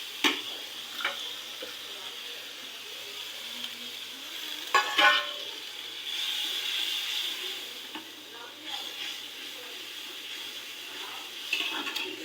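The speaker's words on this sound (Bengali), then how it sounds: "এবার কষিয়ে নিলাম মশলাটা" Spice paste being sautéed and stirred in a pan for a home lunch curry: soft sizzling under intermittent scraping and stirring clatters, with a couple of sharper utensil knocks, moderately close.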